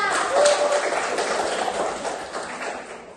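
A class of pupils claps for their classmate Bella, a steady wash of small hands that starts fairly strong and slowly fades over a few seconds.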